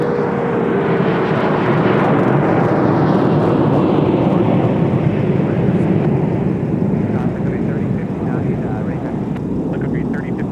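An Alaska Airlines jet taxis through snow toward de-icing at Minneapolis–St. Paul airport, its engines a loud, continuous roar that swells and then eases slightly, with a voice talking over it.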